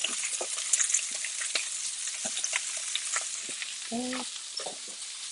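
Pearl oyster mushrooms sauté in a hot pan with a steady close sizzle, broken by scattered spatula scrapes and clinks, and one brief spoken word partway through.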